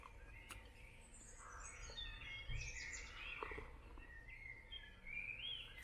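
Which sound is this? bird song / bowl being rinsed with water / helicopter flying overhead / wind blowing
bird song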